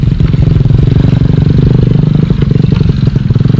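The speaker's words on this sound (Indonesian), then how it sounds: "membawa pohon dari hutan ini pakai motor" A motorcycle engine hauling heavy pine logs out of a hillside forest chugs loud and close, with a rapid, steady low-pitched throb and slight revving surges, along with some rattling clatter from the load.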